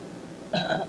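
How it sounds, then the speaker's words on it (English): A single short cough or throat-clearing, close and fairly loud, bursting out after a half-second of quiet room tone. "Excuse me, I'm still coughing."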